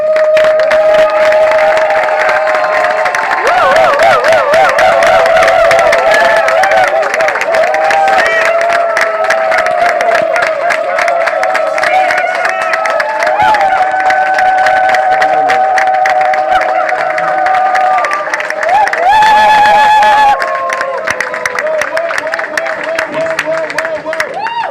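A crowd at a tribute gathering with comedians stands to applaud and cheer for Maman Denise, loud dense clapping and shouts filling the room throughout, with voices carrying over it.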